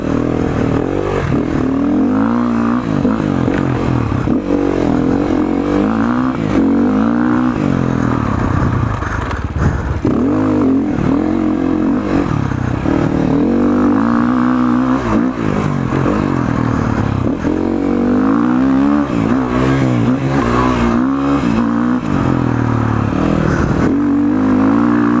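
A Sherco 450 SCF Factory cross-country dirt bike churns through muddy first-gear turns, its engine droning loudly and continuously, rising and falling with the throttle, with mud scraping throughout.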